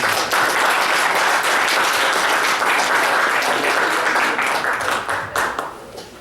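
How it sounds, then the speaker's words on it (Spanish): An academic audience at a philosophy lecture breaks into loud, sustained applause to welcome a speaker, dense clapping that fades out over the last second. "Lo recibimos con un fuerte aplauso"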